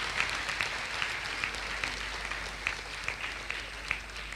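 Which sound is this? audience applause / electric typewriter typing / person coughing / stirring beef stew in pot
audience applause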